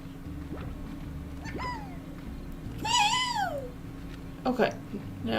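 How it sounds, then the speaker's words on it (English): Tabby slimes in the video game Slime Rancher give a few drawn-out, rising and falling meows alongside soft game ambience, with a person's voice heard briefly near the end. "I swear sometimes I feel like I hear the tabby slimes meow."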